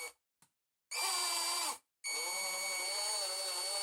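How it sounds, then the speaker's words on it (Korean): A power impact wrench running in short bursts and then a sustained run, giving off a piercing steady high-pitched electrical whine over its motor noise. "임팩트 렌치에서도 작동 중에 삐 하는 소음이 나는 것을 확인할 수 있는데"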